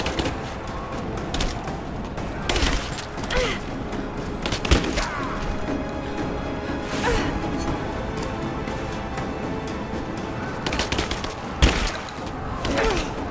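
Shotgun blasts in the action game Rise of the Tomb Raider, several sharp broadband bursts spaced irregularly over steady game ambience, fairly loud and close with no talking.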